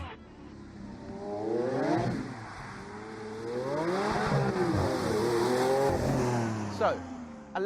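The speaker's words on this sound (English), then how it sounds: "allow me to introduce you to the brand new 690 bhp Lamborghini Aventador LP 704" A 690 bhp Lamborghini Aventador LP 700-4 engine revs loudly and repeatedly, its pitch climbing and falling through several strong sweeps over a steady rumble, with a brief sharp burst near the end.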